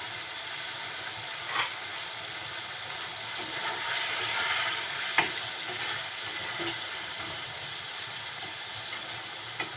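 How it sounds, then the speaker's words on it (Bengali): Shrimp bhuna sizzles and hisses steadily in a hot pan as it is stirred, with a few soft scrapes and clicks of the utensil over the continuous frying noise. "কিছুক্ষণ পর ঢাকনা উঁচু করে আবার একটু নেড়ে চেড়ে দিব।"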